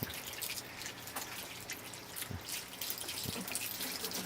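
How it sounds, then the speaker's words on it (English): A metal watering can pours water onto bonsai plants at a nursery, giving a continuous soft splashing and trickling with scattered drips, fairly quiet and with no one talking. "And a metal watering can, that's nice. So here you are watering."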